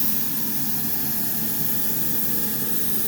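A Langmuir Systems MR-1 CNC mill spindle running at 5,000 RPM gives a steady, even, broadband whir with a faint hum beneath, holding at a constant level with no talk.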